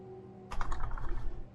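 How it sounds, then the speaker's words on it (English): Computer keyboard keys pressed in a rapid, uneven flurry of soft clicks, close and fairly quiet, starting after a low steady room hum, during play of The Stanley Parable. "I'm pressing keys."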